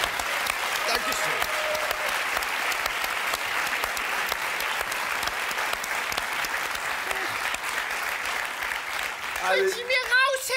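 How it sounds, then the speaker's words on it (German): A studio audience at a German comedy puppet show applauds loudly and steadily with dense clapping for several seconds, then a voice starts speaking right at the end. "einen großen Applaus nochmal für das wunderbare Kuscheltier"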